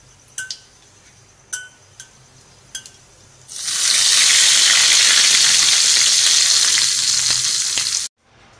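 Cumin seeds browned in hot oil in a pan, poured into a dish as a tempering: a few light clinks, then a loud, steady, hissing sizzle that holds for several seconds and cuts off abruptly.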